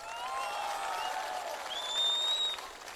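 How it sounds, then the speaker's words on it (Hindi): A crowd at a TIPRA Motha political rally applauds briefly, with steady clapping and some high whistles heard at moderate distance. "इतने के लिए तो थोड़ा ताली मार दो भाई"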